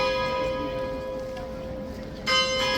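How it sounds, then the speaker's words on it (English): A bell rings at Horse Guards in London to signal the changing of the King's Guard, a steady sustained tone with a brighter stroke near the end over crowd murmur. "There's the bell, which means the guard is going to move."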